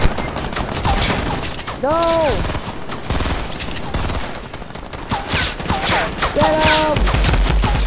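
Sniper rifle fire in a Fortnite match cracks out in several sharp shots over dense game noise, while players shout excitedly over the action.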